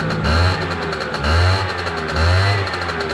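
A two-stroke motorbike engine is revved three times in a row, each blip rising sharply over a rattly idle, close and loud with no voices.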